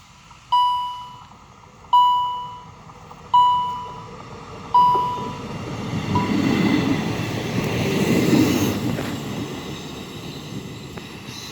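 Intercity train at a railway crossing in Nowa Dęba: four clear bell dings from the crossing signal repeat about every 1.5 seconds, then a steady rushing roar builds as the train passes close by and fades slightly toward the end.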